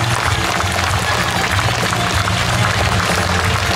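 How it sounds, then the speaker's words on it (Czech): Audience applause after a Hungarian post horse-riding act by Jakub Hlávka at a horse day in Kladruby, with steady dense clapping throughout over low crowd rumble and music-like hum. "Zasloužený potlesk."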